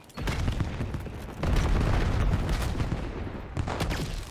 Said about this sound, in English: Deploying cluster grenade